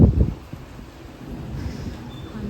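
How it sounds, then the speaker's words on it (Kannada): A brief, heavy thunder rumble opens during rain and a power cut, then fades into a low, steady roll of storm noise heard from indoors. "ಹನಿತಾ ಇದೆ, ಗುಡುಗ್ತಾ ಇದೆ."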